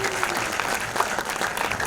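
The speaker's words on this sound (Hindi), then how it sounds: "कास्ट और क्रू के लिए जोरदार तालियां लेडीज एंड जेंटलमैन प्लीज" An audience at a special anniversary film screening applauds the cast and crew, a steady, dense round of clapping that continues unbroken across the short moment.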